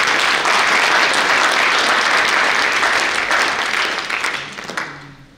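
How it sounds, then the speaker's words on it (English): A conference audience at a closing session gives a full round of applause, sustained dense clapping from many hands that stays steady, then thins out and trails off near the end. "give yourselves a round of applause"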